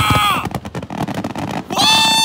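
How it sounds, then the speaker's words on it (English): Fourth of July fireworks grand finale with rapid-fire shells bursting in a dense run of sharp booms and crackles, framed by excited shouting and cheering voices before and after. "If it's the grand finale, they could be rapid firing all these at once."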